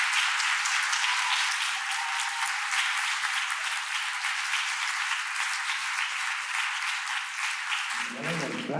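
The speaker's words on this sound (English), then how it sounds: "Incubator Ball round of applause for Jules." Applause from the crowd at a London charity ball raising money for premature babies, a steady dense roar of clapping sustained for several seconds before fading at the end.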